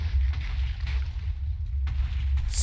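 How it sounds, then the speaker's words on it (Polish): TNT blowing up in Minecraft as a building is destroyed: a continuous deep, rumbling low boom with repeated explosive bursts, loud and dense throughout. "To TNT wybucha"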